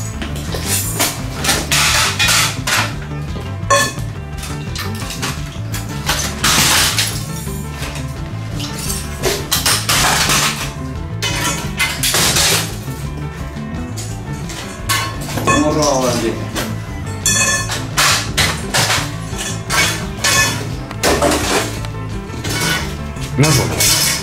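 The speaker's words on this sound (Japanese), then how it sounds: "あ、あー、ミシンが壊れた。" A sewing machine being smashed apart, loud clattering metal-and-plastic crashes and clinks in rapid irregular bursts, with people talking and reacting throughout.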